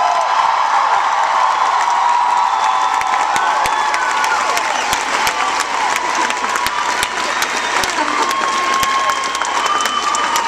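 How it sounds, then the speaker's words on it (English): A live club audience at a South by Southwest show claps and cheers for drummer Johnny Andrews of Tegan and Sara. The applause is dense and sustained, with scattered whoops throughout. "give him almost as big a round of applause"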